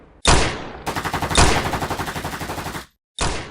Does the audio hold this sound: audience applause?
no